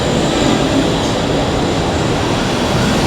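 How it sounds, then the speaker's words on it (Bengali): Constant roar of a Peshawar metro train in motion, a loud, even rumble of wheels and carriage noise filling the whole stretch, without speech. "আমি এখন রয়েছি পেশোয়ারের মেট্রোতে"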